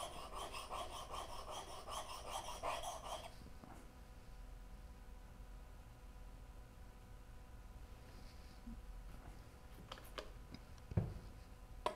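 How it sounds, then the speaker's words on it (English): A wood chisel's back rubs rhythmically across a sharpening stone for about three seconds while being flattened, followed by quieter scraping, light taps and handling sounds close by. "It just helps keeps the backs in line and makes it easier to sharpen your chisels fast knowing that the backs are still flat."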